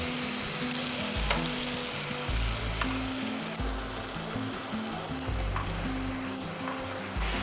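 Tomato paste fries in oil with curd-based masala, a dense continuous sizzle with the occasional scrape of stirring, loud and close throughout.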